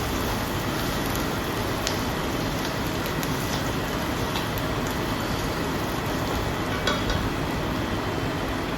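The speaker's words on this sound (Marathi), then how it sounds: "आता आपण कांदा परतून घेऊया." Chopped onion sautéing in a pan for dal batti, giving a steady rain-like sizzle with faint stirring clicks, close and continuous with no talk.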